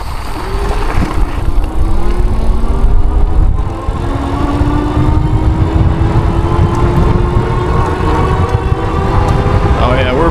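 An electric bike in Class 4 mode accelerates fast along a road at over 20 mph, with a steady whining motor tone rising in pitch over continuous wind and road rumble, recorded close up throughout.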